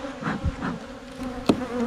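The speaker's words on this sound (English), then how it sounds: "We got a lot of bees" A dense swarm of honeybees around an open hive buzzes steadily and close by, a continuous droning hum with a sharp thump partway through.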